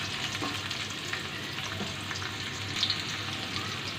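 Chopped onion fries in hot oil with whole cumin seeds, making a steady, busy sizzle with faint stirring scrapes close by. No one speaks.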